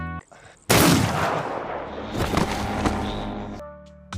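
A loud gunshot rings out in a film scene as a bodyguard shoots a man from behind, a sudden close blast with a rumbling, echoing tail over music and tense ambience.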